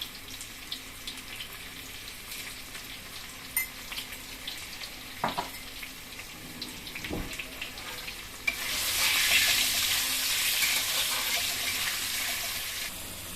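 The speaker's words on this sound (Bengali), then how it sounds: "আলুটা আমার ভাজা হয়ে গেছে।" Potatoes frying in hot oil with salt and turmeric, a steady close sizzle that swells louder and brighter partway through, with a couple of sharp clinks from utensils against the pan.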